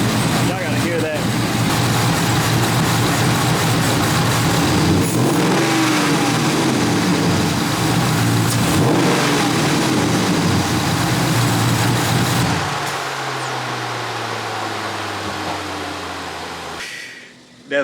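A Ram 1500 fitted with a Hellcat throttle body roars loudly and steadily as it revs up close, drawing in air hard, then drops to a lower, quieter idle hum before cutting off.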